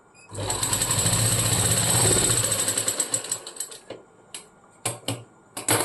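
A sewing machine stitches a blouse: a continuous whirring run of rapid needle strokes, then a series of short stop-start bursts, close and clear.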